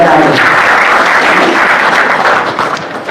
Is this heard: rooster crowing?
no